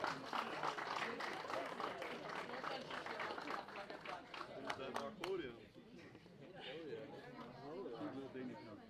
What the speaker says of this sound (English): One more applause for this brilliant race.